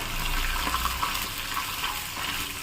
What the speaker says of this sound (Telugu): ఈ వెల్లుల్లి రేకల్ని కొంచెం కలర్ వచ్చేంత వరకు వేయించుకోవాలి